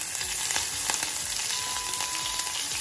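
Chopped green chillies frying in hot oil with cumin and asafoetida for a spring onion and potato curry, a steady close sizzle with crackling pops throughout and no voices.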